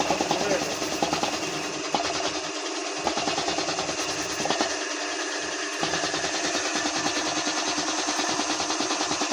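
A repaired air compressor running after engine oil was added, a loud rapid mechanical chugging with a steady pulsing rhythm, close by, with brief dips in the low rumble.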